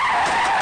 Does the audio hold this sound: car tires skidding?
yes